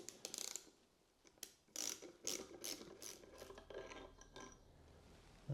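A ratchet clicks in short bursts while loosening a brake caliper bolt on a Mercedes W126, with several quick, close ratcheting runs separated by brief pauses.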